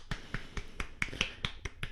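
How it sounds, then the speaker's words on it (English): A lone podcaster claps his hands in a steady round of about ten sharp, close claps, evenly spaced and recorded alone with no voices. "I'm doing a round of applause on my own podcast."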